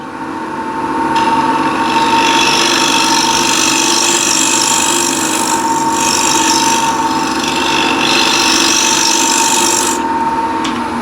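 A wood lathe runs while a scraper, handle held high at dead center, cuts under light pressure, throwing shavings and fine dust; a loud, steady, close scraping hiss holds throughout with slight swells.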